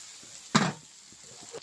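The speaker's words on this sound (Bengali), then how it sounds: "এবার নাড়াচাড়া করে ঢাকনা দিয়ে ঢেকে দেবো কিছু আরও সিদ্ধ হওয়ার জন্য।" Potatoes frying in oil in a kitchen pan, with one short loud sizzling burst as they are stirred, followed by a faint low crackle and a small clink near the end.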